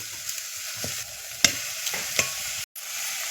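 Homemade onion, garlic, cumin, ginger, coriander and coconut masala sizzles softly in hot oil for shev bhaji, with a steady fry and a few spoon scrapes and taps, close and quiet.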